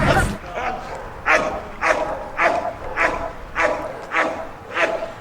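Dogs at a rescue shelter bark in a steady series of about seven sharp, fairly close yaps roughly every half second, with occasional whimpers and background voices.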